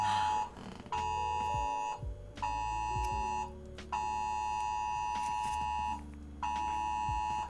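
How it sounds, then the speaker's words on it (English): A phone's emergency alert blares indoors: loud, piercing electronic tones repeat in steady bursts of about a second with brief gaps, alone and without talk. "it's the emergency alert system!"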